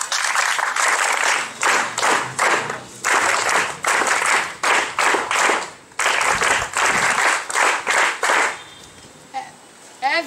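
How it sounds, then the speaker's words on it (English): An audience claps in a series of loud bursts of applause, separated by brief pauses, with a voice faintly heard near the end. "please welcome him by a round clap"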